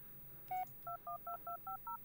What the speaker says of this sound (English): Stop with the ringing, though, please.